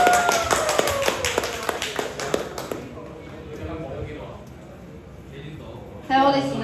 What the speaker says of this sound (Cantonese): 大家俾啲掌聲啦！